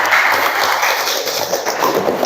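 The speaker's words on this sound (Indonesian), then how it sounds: "Sekarang kita berikan tepuk tangan untuk kita semua dulu pada hari ini" A classroom of students claps together in dense, steady applause that stays loud and even throughout, with no talk over it.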